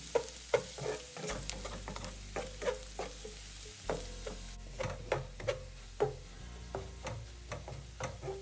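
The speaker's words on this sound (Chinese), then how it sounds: "在红葱片油炸至微微焦黄后，像视频中这状态，这时候就可以将蒜末倒入一起爆香" Sliced shallots and minced garlic fry in a pan as oil sizzles steadily while a spatula scrapes and taps in a regular stirring rhythm, close and clear.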